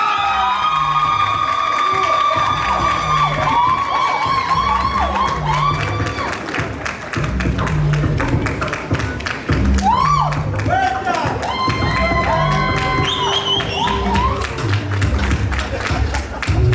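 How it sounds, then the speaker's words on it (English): Crowd at a Mr. World Jamaica coronation pageant in 2024 breaks into sustained clapping with cheers, whoops and shouts, a dense, steady roar of applause filling the whole stretch while an announcer's voice carries over it. "Keep your applause going."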